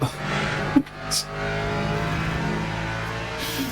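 Race car engine from the sim racing game Le Mans Ultimate, driven on three wheels, holds a steady loud drone throughout, with a brief bump near the start and no talk.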